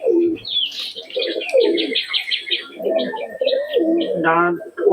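Breeding pairs of older pigeons from a home loft coo in repeated low throaty phrases, with higher chirps and rustling mixed in nearby; someone speaks over the birds throughout.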